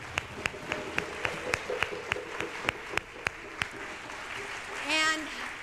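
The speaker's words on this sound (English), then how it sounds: "So let's give Bodhi another round of applause." Sparse, evenly spaced hand claps ring out at a steady beat in a congregation at a church service, fairly close and distinct, before they stop and a voice begins to speak.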